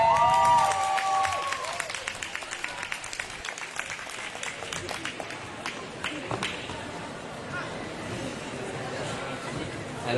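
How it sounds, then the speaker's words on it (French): Audience applauding and cheering at a roller derby match between Les Pétroleuses and Les P'tites Frappes, a steady wash of clapping with crowd chatter and an announcer's voice talking over it. "ça s'applaudit plus que ça, s'il vous plaît."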